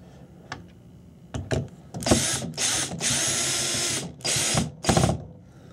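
A power drill on a low torque setting whirs in several bursts of varying length, driving screws into wall anchors for a floating walnut shelf, with short revving spurts and a longer sustained run, close by in a quiet room.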